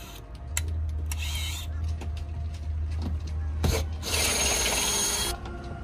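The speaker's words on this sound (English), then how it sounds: "I'm trying to drill through it" A drill whines at a steady pitch against a brass plate on a Catalina 22 sailboat, with bursts of high grinding and scraping as it bites in; brief voices are heard.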